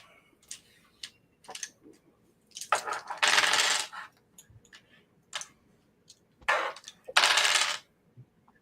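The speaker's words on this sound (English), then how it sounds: "Oh man, all those dice." A large handful of dice is rolled for a tabletop RPG, with several bursts of hard plastic rattling and clattering on a table. Scattered single clicks fall between the bursts, close by and with no talk.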